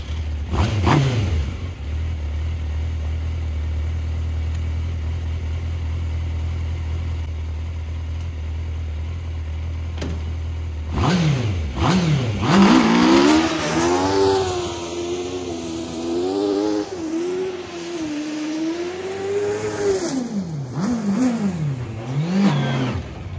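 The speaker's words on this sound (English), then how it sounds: "let's do a little startup and just a tiny drive, I guess." A homebuilt 100hp crosskart engine idles steadily, then is revved and driven off, rising and falling in pitch with rough throttle blips, loud and close throughout.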